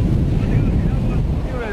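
Wind and the ocean's surf at the water's edge make a steady, loud rumble, with heavy gusts buffeting the microphone throughout.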